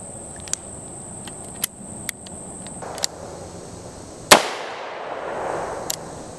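A Taurus Judge revolver fires a single .410 shotshell loaded with 25 small BBs, giving one sharp, loud blast with a brief ringing decay. Fainter clicks and taps come before it, with no talk.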